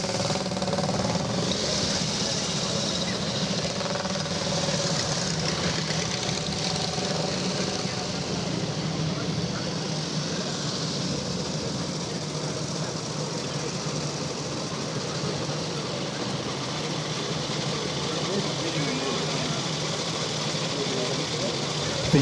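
Vintage motorcycles at the Vintage Motor Cycle Club's Banbury Run, including an 800cc machine, idle and rev as riders set off, a continuous loud mix of several engines nearby, with people talking over the noise.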